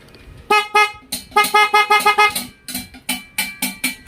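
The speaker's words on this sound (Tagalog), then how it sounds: "So yung busina niya okay naman" Horn on a Yamaha Mio i 125 scooter honking in a rapid series of short, loud, close beeps, some in quick pairs, with brief gaps between bursts.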